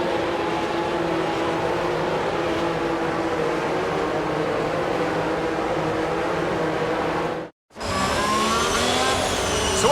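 Race cars drive around a wet circuit as the field reforms the grid, a continuous broad engine roar with hissing spray, steady and moderately distant, cutting out abruptly near the end before resuming.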